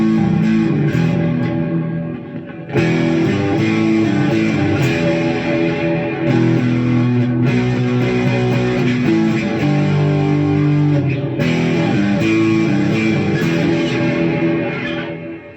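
An electric Telecaster kit guitar plays through the drive channel of an Egnater Rebel 20 valve amp, giving loud, distorted chords and riffs with a reverb tail and short pauses between phrases.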